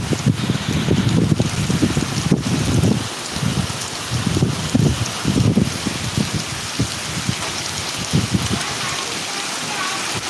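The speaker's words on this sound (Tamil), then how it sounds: "ஊரில் மழை வருதுங்க" Sudden heavy rain pouring down in a hometown, a loud, steady wash of falling water with dense patter on surfaces, briefly swelling and easing, while faint voices murmur underneath.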